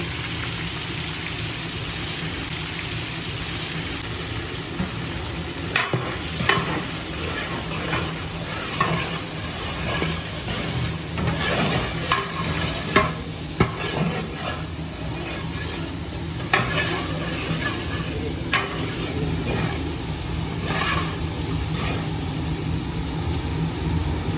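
Onions go into a hot oil tempering of curry leaves, bay leaf, mustard seeds, coriander and cumin, and a steady sizzle and crackle runs throughout with scattered louder pops and spatters, fairly close, with no talking.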